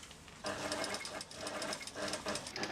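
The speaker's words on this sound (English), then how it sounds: "The dressmaker stitches her flounce." A dressmaker stitches a flounce for a Christian Dior dress on a sewing machine. The close machine whirs in rapid stitching bursts after a brief pause, with soft voices in the background.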